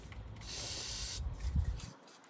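Aerosol spray hisses into the throttle of a 1983 Honda 185s, one steady close spray lasting about a second, followed by faint rumbling and handling noise.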